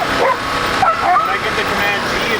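Sled dogs at a Yukon mushing kennel bark, yip and whine excitedly in a steady, close chorus, with some high yelps rising above the noise.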